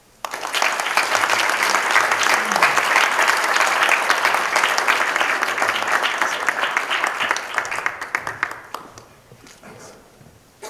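A commencement-style audience gives a speaker a sustained burst of clapping that rises quickly, stays dense and even for several seconds, then thins and fades near the end.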